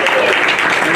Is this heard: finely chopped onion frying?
no